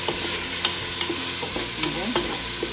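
Garlic and onion frying in oil for a langostino chowder, stirred in a pan: a loud, steady sizzle carries scraping spoon strokes and light clinks throughout, with no talking.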